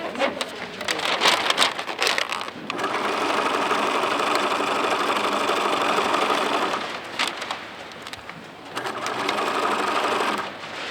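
A sewing machine stitches a seam in a Tyvek hospital gown, its rapid motor whir running in long bursts with short pauses between them, close and fairly loud.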